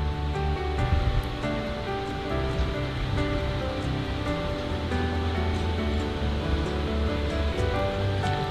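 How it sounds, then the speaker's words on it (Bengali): Eggplant pieces sizzle and spatter in hot oil tempered with black cumin, a dense, continuous crackling hiss that stays close and steady throughout with no talking. "ওই তেলের মধ্যেই কালো জিরে ফোড়ন দিলাম, এবারে বেগুনগুলো দিয়ে দিলাম।"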